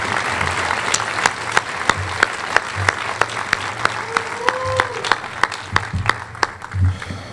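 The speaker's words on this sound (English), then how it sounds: "let's give a round of applause for Elijah as he comes to the stage" An audience at the grand opening of the Rockwood Boys & Girls Club claps steadily, a dense mass of applause punctuated by occasional sharper single claps, sustained throughout the clip with faint crowd murmur beneath.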